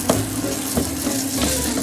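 A salmon fillet over an inch thick searing in hot oil in a pan, giving a steady, close sizzle with faint scraping as it is moved around.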